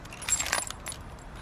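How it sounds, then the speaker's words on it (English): A bunch of keys for a 2018 Honda Civic hatchback jangles close up in a short metallic rattle, then quiets. "you do need the keys to open it up"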